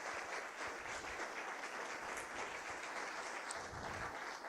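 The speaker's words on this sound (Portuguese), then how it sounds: "Dá uma salva de palmas aí" A church congregation applauds together, a dense, even wash of clapping that holds steady and fairly distant throughout.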